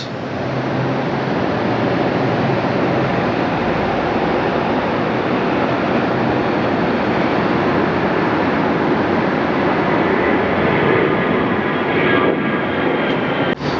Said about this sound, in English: We got November 440 Alpha November, American Airlines, taking the right turn off of the taxiway.